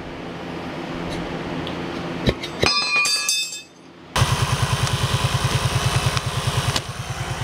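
A 12-volt portable air compressor, run off an ATV, pumps up the machine's tire with a steady rapid pulsing chug that starts abruptly after a moment of lighter clanks and tool noise, loud and close.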